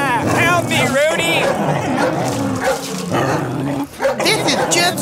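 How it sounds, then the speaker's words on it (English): Cartoon dogs bark and yip repeatedly in an animated show, busy and close, mixed under constant talking from the characters. "That sounds like dogs."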